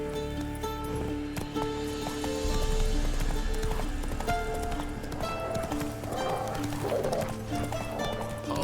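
In The Witcher 3, the horse Roach moves with rhythmic hoof clip-clops over a game soundscape, with a brief whinny and some rustling, fairly close and continuous.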